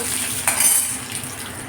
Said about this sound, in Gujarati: તતડાઈ છે એટલે એમાં મેં આ મરચાં નાખી દીધા છે